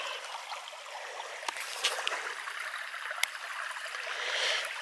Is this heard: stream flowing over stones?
yes